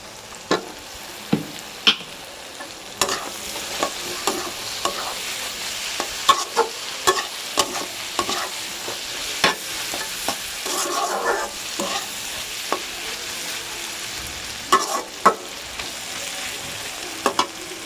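A spatula scrapes and stirs food in a frying pan with a steady sizzle underneath, giving repeated sharp clacks and scrapes at an irregular rhythm, close and fairly loud, with no talking.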